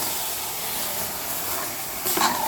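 A mixture being sautéed in a pan for a rasam chicken thokku, with a steady broadband sizzling hiss throughout and a brief louder scrape or stir near the end.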